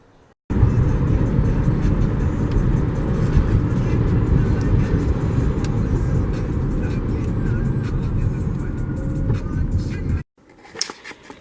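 Car traffic rolls along a busy road as a steady, loud roar of passing vehicles that runs for about ten seconds and then cuts off abruptly.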